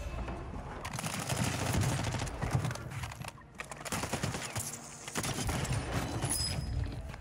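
Sustained automatic gunfire in the Warzone video game, dense rapid bursts of shots running almost continuously at loud volume with brief lulls between volleys.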